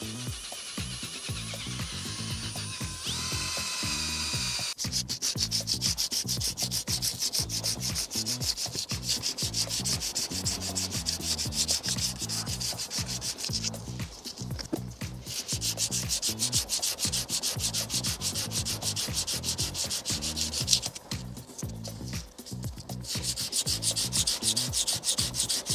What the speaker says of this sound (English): So I'm just sanding them down